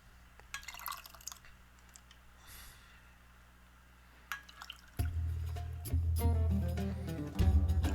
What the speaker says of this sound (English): And then we'll add the barley water.